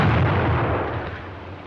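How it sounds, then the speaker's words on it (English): A German stick grenade of the potato-masher type detonates in a single heavy blast, a loud close boom with a rolling low rumble that slowly fades over a second or so, no voices. "Being constructed to deliver a maximum blast effect, its explosion will stun rather than cause injury by fragmentation."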